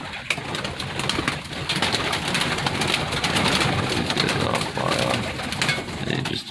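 Pigeons coo softly in a loft where new chicks have just hatched, the low calls blending into a steady rustling, pattering background at close range with no talk.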